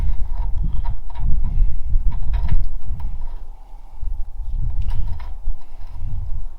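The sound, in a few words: tightening castle nut on trailer wheel axle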